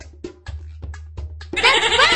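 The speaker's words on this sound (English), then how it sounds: "That's right! It's a goat!" A goat bleats in a Dora the Explorer farm-animal video game: a loud, wavering bleat with a rough, strained tone near the end, preceded by short soft game tones over a steady low hum.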